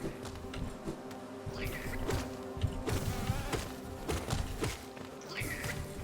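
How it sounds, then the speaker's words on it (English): Big bees in the video game Hollow Knight buzz in repeated swells over a steady game soundscape with soft patter and footfalls, the insect drone rising and fading several times across the stretch. "So it's these big bees that you want to be careful with because they do double damage."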